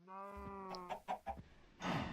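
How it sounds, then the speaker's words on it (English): Chickens cluck in a Minecraft-style modded game on a farm, with a steady harmonic tone underneath and several short clucks in a row, then a louder rustling burst at the end, with no talk. "I'm going to go out here and visit my chickens, because they should be ready to breed again"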